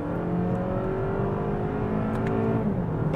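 A 2024 Lexus ES 250 AWD accelerating under throttle, a steady engine drone and whir heard from inside the quiet cabin, its pitch climbing gradually with no talking.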